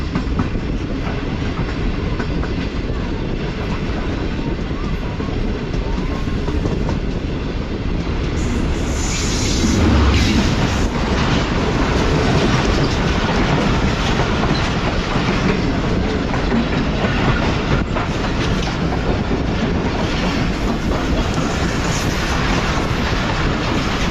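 The Karachi Express on the Lahore–Karachi line thunders past close by, a loud, sustained roar of rolling cars and steady clickety-clack that swells midway and holds, with no talk heard.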